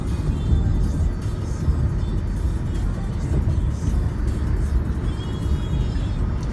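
A car drives on the road, heard from inside, with a steady loud rumble of engine and road noise that continues throughout.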